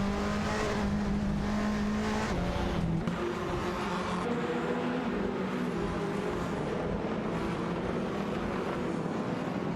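Several race cars in the Live for Speed racing game compete and overtake one another, engines droning steadily with shifting pitch as cars pass close together, continuous and loud throughout with no talk.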